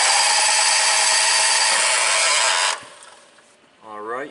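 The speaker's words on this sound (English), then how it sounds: "you guys may have heard that grinding noise as it was cranking" A John Deere 6X4 Gator engine cranks with a harsh grinding whine, loud and continuous for about three seconds before cutting off, followed by faint mechanical sounds and a brief voice.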